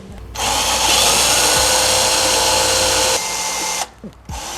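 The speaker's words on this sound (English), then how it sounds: "About to start drilling away." A loud power drill whirs steadily for about three seconds while drilling into a car frame, then stops, followed by a few faint clunks and handling noises.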